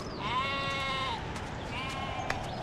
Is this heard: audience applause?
no